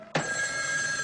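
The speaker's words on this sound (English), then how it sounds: "Igor, answer this phone, quickly." A telephone starts ringing abruptly after a moment of near silence, its bright bell tone sustained and clear in a quiet room.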